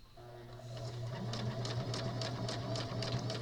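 A sewing machine runs steadily nearby, its motor humming under a quick, regular stitching rhythm with no talking.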